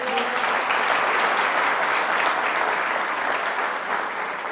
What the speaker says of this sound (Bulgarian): Ако го вярваш, отдай ръкопляскане на Господа.